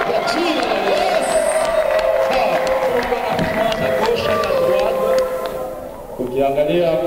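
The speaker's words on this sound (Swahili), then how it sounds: "Piga mkono na vigelegele kwa jina la Yesu." A church congregation at a day of prayer for peace in DR Congo claps and ululates, a loud, sustained roar of shrill trilling voices and hand claps that fills the hall throughout.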